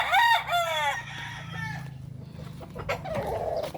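A rooster crows loudly and close by in a yard in front of a house, the long harmonic call filling the first seconds, followed by softer clucks and other fowl noises in the background.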